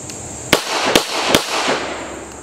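A handgun drawn from the holster fires three sharp shots about half a second apart on a shooting range, loud and close with brief ringing echo after each.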